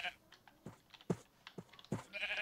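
Sheep bleats from a crafting video game, several short soft cries spaced across the moment, mixed with quiet game sounds and a voice.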